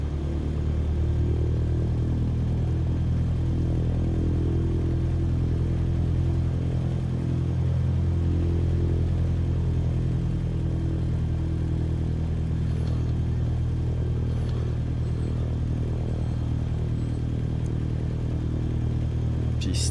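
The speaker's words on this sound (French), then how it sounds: "Sierra taking off runway 28 straight out departure" A light aircraft's engine runs at high power during takeoff on runway 28, a loud, continuous, steady roar with cabin rumble throughout and no pauses.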